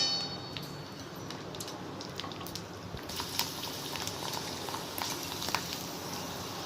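Rice flour vadiyalu fry in hot oil with a steady, soft sizzle and bubbling hiss that continues throughout and grows slightly busier partway through, with no talking.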